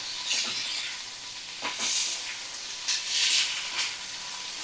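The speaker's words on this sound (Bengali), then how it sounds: "তো এইভাবে মশলা আমি ভালো করে কষিয়ে নেব।" Ginger-garlic paste and ground spices fry in a pan for a fish curry with carrot and potato, giving a continuous hissing sizzle that swells with several stirring strokes, close and steady, with no one talking.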